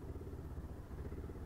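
A motorcycle engine runs at a low, steady rumble, idling and chugging softly as the bike is eased into a parking spot on a roadside, continuous and fairly quiet with no talking.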